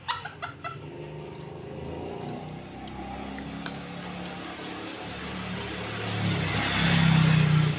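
Chickens cluck and murmur nearby in a steady low chorus, with a few faint clinks early on and the clucking growing louder toward the end.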